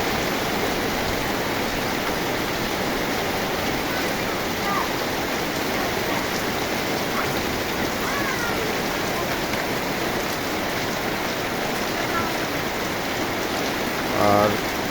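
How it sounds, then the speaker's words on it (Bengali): Heavy stormy rain pours down steadily, a dense broadband rush that stays constant throughout, with a brief closer clatter near the end. "আমার এলাকায় তো প্রচণ্ড পরিমাণে ঝড়ো বৃষ্টি হচ্ছে"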